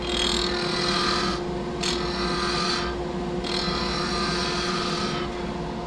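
A skew chisel makes a planing cut along a spinning-top blank on a wood lathe, a steady hissing shave that comes and goes in several passes over the lathe's constant motor hum.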